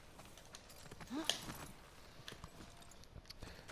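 Horse hooves clip-clop in The Last of Us Part II, a few soft, scattered steps with a brief louder rise near the middle, faint beneath the game's ambient background.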